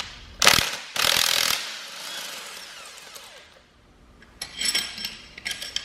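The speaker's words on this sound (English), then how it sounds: "now we can start pulling the head bolts." A ratchet works loose the cylinder head bolts on a Porsche Cayman engine, with a few loud bursts of rapid clicking up close and quieter mechanical clatter in between.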